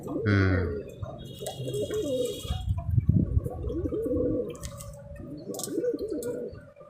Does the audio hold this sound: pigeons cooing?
yes